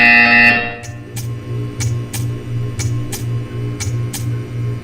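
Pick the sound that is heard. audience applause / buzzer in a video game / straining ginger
buzzer in a video game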